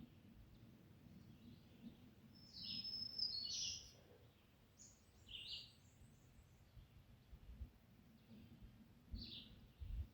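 Faint, distant bird chirps come in a few scattered high bursts over a low, quiet outdoor rumble.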